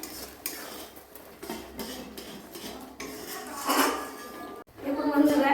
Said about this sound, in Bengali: রান্না হয়ে গেছে, এরপর আমি ঢাকনাটা দিয়ে দিচ্ছি।